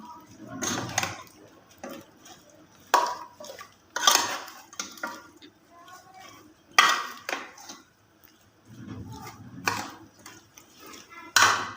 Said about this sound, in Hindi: अब इसको अच्छे तरीके से हम मिक्स कर लेंगे।